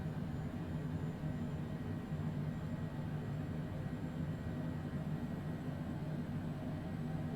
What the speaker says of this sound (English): Wait for that engine to spin up.